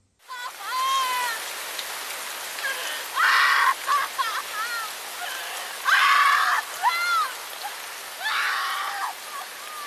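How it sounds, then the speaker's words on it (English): Heavy rain pours steadily throughout a dramatic film scene, a constant dense hiss with anguished shouting and screaming voices breaking through over it. "In the pouring rain"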